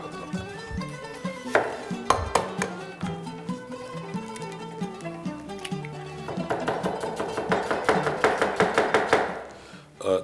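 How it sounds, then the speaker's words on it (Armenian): A knife chops onion on a board in a home kitchen while tan is made. Quick, irregular cuts sound close and sharp, and they grow denser toward the end over steady background music. "Ես սոխը կտրատեմ։"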